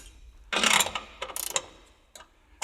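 Mechanical ratcheting clicks and grinding from a press tool forcing a split bush into a VW Group engine subframe, in short close bursts with a loud initial surge.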